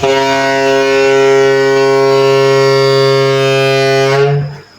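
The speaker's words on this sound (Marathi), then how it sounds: "तर अशा प्रकारे तुम्ही सुद्धा फुगा असा भोंगा बनवू शकता घरच्या घरी" A homemade balloon-and-pipe horn blares one loud, steady, buzzy low note for about four seconds, then sputters out.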